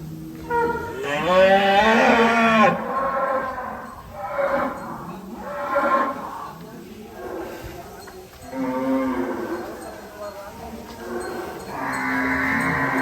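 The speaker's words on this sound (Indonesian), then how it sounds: "Sapinya banyak sekali guys ini guys" Cattle at a large farm holding around a thousand head moo in long, loud drawn-out calls, several overlapping and repeating from nearby, with continuous herd noise underneath.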